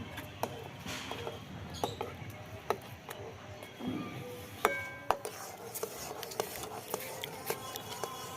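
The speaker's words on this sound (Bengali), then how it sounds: "এবার সেদ্ধ করা মুগ জলটা দিয়ে দিলাম এবার ভাই ভালো করে নাড়তে হবে" Boiled mung beans and their water are stirred in a pot, giving irregular metallic clinks and scrapes of a spoon against the pot, close by, with faint voices in the background.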